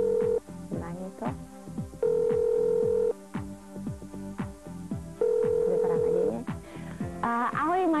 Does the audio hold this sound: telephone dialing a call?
yes